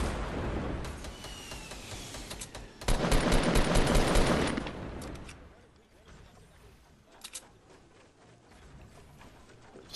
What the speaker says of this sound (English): RPG, yup, they're shooting RPGs.